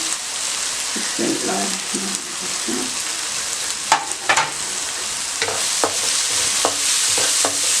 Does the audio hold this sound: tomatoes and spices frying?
yes